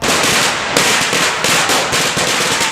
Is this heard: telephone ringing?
no